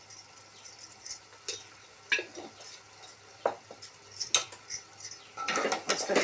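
A spoon stirs coriander powder into a dish in a metal pan, giving quiet, irregular clinks and scrapes close by, with a few sharper metallic knocks and a brief busier flurry near the end.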